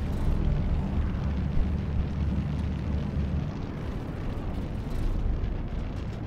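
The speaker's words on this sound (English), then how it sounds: "Okay, so we're definitely crash landing." A spacecraft crash-lands in the game Phoning Home with a heavy, continuous roaring rumble, like a steady blast of wind and fire, holding at an even loudness throughout.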